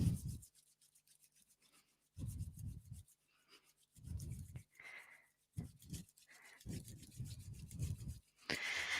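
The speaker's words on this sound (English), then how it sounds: "Rub your hands together." Hands rub together in several separate bursts of dry, rasping friction, near and fairly quiet, with short pauses between strokes.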